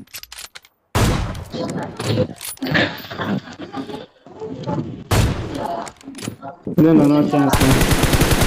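Bursts of automatic gunfire in the mobile battle-royale game PUBG Mobile, rapid rattling volleys close and loud, broken by short gaps, with a player's voice talking over parts of it.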